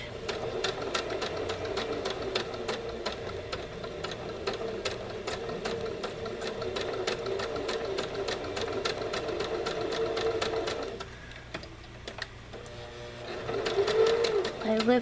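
A sewing machine stitches a fabric pillow, its rapid even needle clatter running continuously and close for about eleven seconds, then pausing briefly before starting up again in short bursts.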